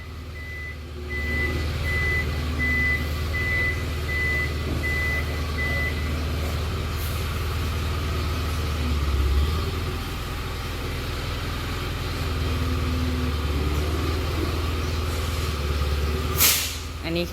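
A six-wheel truck reverses into a garage, its reversing alarm beeping in an even repeating pattern over a loud idling diesel rumble, ending with a sharp air-brake hiss; a voice can be heard faintly at times.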